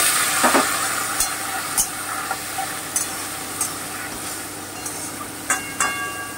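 Poppy seed paste cooking with mixed vegetables and a splash of water in a pan, a steady low sizzle broken by intermittent stirring scrapes and occasional clinks of a utensil against the pan.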